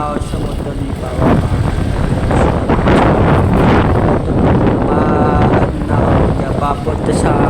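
Wind noise buffeting the microphone while riding a motorcycle, a loud rough rumbling roar with gusty swells over several seconds and a faint engine drone beneath.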